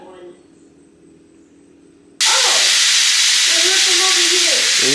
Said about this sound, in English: Ooh, y'all hear that sizzle?